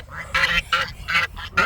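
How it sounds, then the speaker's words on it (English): Farmyard ducks and geese quacking and honking, several short loud calls in quick bursts close by, with a soft murmur of background noise between them. "The geese and the ducks actually eat grass."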